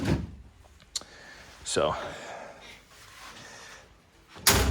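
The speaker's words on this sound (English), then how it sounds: "I need to adjust this door. It keeps catching." A service vehicle door with a misaligned latch catches as it is shut, giving a sharp knock and a scraping thud, then a louder bang near the end, close by in a garage with someone talking briefly.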